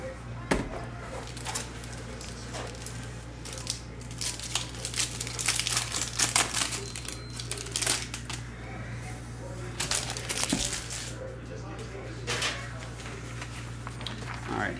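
A hockey card hobby pack, Upper Deck O-Pee-Chee Platinum, is torn open and handled, producing close, continuous foil crinkling and ripping over a steady low hum, with sharper tearing bursts throughout.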